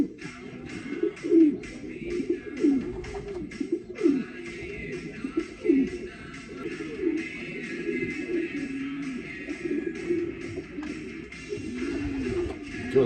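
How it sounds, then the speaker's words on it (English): Racing pigeons in a loft coo softly and repeatedly, a low rolling murmur from several birds nearby, with faint rustling and occasional background noise. "So that's a nice Emerton Scott bird"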